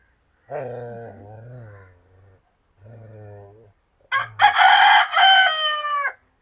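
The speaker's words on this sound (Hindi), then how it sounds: "ये मुर्गे कौन पे चिल्ला रहा है?" A rooster crows loudly and close, a long strained cock-a-doodle-doo after a few lower clucking, growly animal sounds with pauses between.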